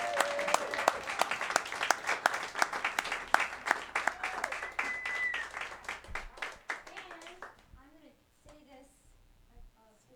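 Audience applause at a concert for a CD release show, a dense wash of many hands clapping that fades over several seconds, with a few voices and talk emerging near the end.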